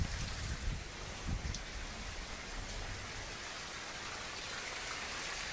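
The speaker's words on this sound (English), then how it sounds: "This is crazy how much rain is pouring off the roof." Heavy monsoon rain pouring off a roof, a steady faint hiss of falling water with a few louder splashes at the start, continuous and without voices.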